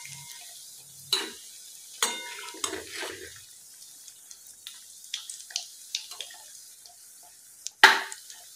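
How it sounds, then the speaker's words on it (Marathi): Slices of breadcrumb-coated bread frying in oil, a quiet bubbling sizzle punctuated by a few sharp clinks and scrapes of a utensil, the last one loudest, close and without talk. "ते तेलामध्ये सोडूया आणि त्यांना छान असा लालसर रंग येईपर्यंत तळून घेऊया"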